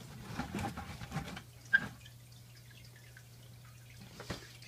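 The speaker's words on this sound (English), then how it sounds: "see the water's dripping into the bucket with the guppies" Water dripping into an aquarium bucket holding guppies during acclimation: a few soft, distinct drips with quiet pauses between them, close by, over a low steady hum.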